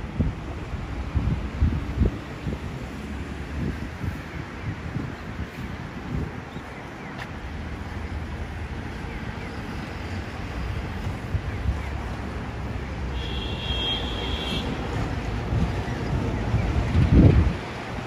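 Steady wind rushing and buffeting the microphone outdoors among cherry blossoms in Kyoto, a constant low roar with gusts swelling louder near the end.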